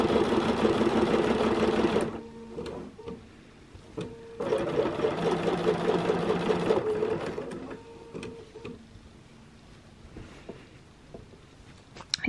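A sewing machine quilts small circles on a quilt in two loud, sustained runs separated by short pauses and light clicks of handling.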